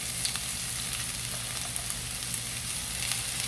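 Onions sautéing in a pan as filling for stuffed bitter melon, a steady soft sizzle and crackle with a low hum beneath, continuous and close for a few seconds, no talking.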